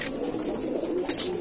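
Madrasi fancy pigeons of Dasu and related breeds at a loft sale, soft low cooing murmurs running under a constant hiss, fairly close with a brief brighter flutter near the end.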